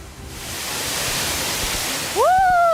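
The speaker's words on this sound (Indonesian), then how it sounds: "Ini dia air terjun tingkat paling atas di mana akan ada canyoning." Water tumbles steadily over the top tier of Leunsalama falls on Wawonii, a loud broadband rushing roar filling the whole clip, with a brief rising tonal whistle cutting in near the end.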